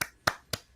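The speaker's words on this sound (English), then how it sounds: "There's no need for the sarcastic clap." Three slow, evenly spaced hand claps, sharp and close, in a deliberately sarcastic applause with quiet gaps between each clap.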